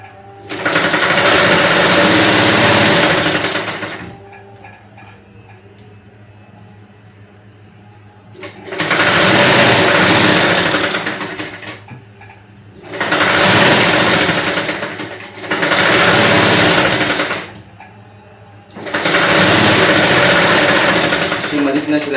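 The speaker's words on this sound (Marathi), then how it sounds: "आपण इथं मधीतनं शिलाई मारून घ्यायची." A sewing machine stitches down the middle of a piece of fabric in five loud, close bursts of rapid mechanical whirring, separated by quiet pauses.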